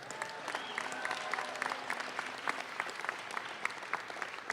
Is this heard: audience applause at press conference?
yes